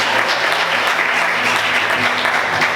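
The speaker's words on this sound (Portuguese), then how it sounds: "Aplauda o Senhor mais forte" A church congregation claps loudly and steadily during a Portuguese-language service, a dense continuous wash of applause from many hands with no voices standing out.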